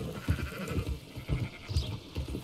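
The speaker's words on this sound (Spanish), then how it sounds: "Llevar un rebaño de ovejas." A flock of sheep bleats repeatedly in Red Dead Redemption 2 while being herded, several overlapping nearby calls with game background ambience.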